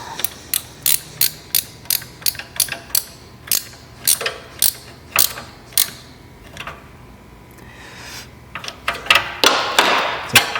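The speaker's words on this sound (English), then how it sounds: "So we're going to wind the tool on now." A chain rivet tool is wound onto a Suzuki GSXR600 525/520 motorcycle chain, giving a close, steady run of sharp ratcheting clicks that pause and then return as a denser, grinding burst of clicks.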